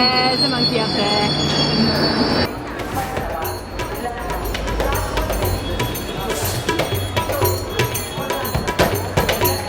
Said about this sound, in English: Train has just arrived and it is absolute chaos.